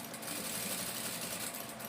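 Sewing machine stitching close along the border of a dish towel, a steady fast whirring hum that carries on without a break at close range.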